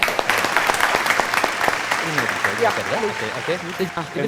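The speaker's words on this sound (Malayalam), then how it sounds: "ഒരു വലിയ ക്ലാപ്പ് കൊടുക്കാൻ ചോദിച്ചു" An audience at a mentalist's stage show claps in a brisk burst of applause for about two seconds, then it fades as a speaker's voice takes over.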